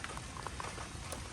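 Rain water runs over a gutter guard and drips off its edge, giving a steady, dense patter and trickle with scattered brighter drop hits throughout.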